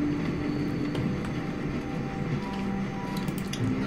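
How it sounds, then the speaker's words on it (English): A moving train in The Walking Dead game, a steady low rumble with faint rattling and hum, continuous and even throughout, with no voices. "I'm gonna get this train stopped right quick"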